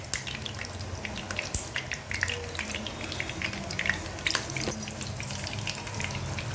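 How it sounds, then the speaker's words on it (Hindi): Beetroot cutlets shallow fry in a pan with a steady close sizzle, crackling and spitting throughout with scattered sharper pops. "आप चाहे इन्हें डीप फ्राई भी कर सकते हैं, लेकिन हम इन्हें शैलो फ्राई कर रहे हैं।"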